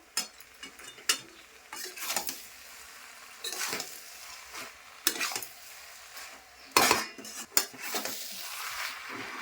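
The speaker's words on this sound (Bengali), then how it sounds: "চিংড়ি মাছ দিয়ে দিচ্ছি, দিয়ে একটু সামান্য কষাবো।" Shrimp stir-fried with vegetables for a jackfruit-and-shrimp curry, a spoon scraping and clinking against the pan in irregular strokes over a faint sizzle, fairly quiet and close, with no voices.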